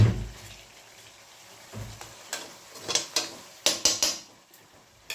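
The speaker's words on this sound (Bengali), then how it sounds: "চলো মশলাটা কষানো হোক দেখো মশলাটা কষাতে কষাতে তেল বেরিয়ে গেছে" Spice paste sizzling and crackling in hot oil while being stirred, for a Bengali oil-rich koi fish curry; irregular scraping bursts and sharp spatters grow busier toward the end, close and fairly loud, with no voices.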